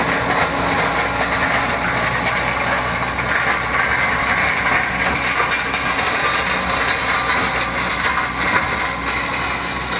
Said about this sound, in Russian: Мульчер, Матенг, Минасор 260. На тракторе Беларус